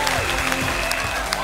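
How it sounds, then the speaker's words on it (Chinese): Steady applause from a studio audience at a televised Jiangsu TV quiz show featuring Tsinghua and Peking University students, a dense unbroken wash of clapping with some voices mixed in. "我相信这个掌声啊不仅仅只是给主持人的"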